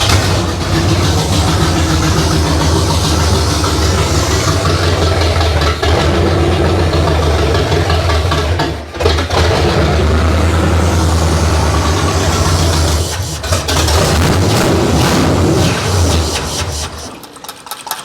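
A 1968 Camaro's V8 engine runs loudly and close after sitting for years, a steady rough idle that rises and falls with revs and briefly dips near the middle before cutting out at the end.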